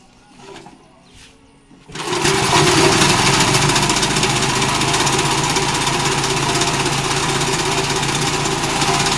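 A grinding machine grinds ingredients for jollof rice. It starts up loudly after a few faint knocks, then runs as a steady, near, droning roar to the end.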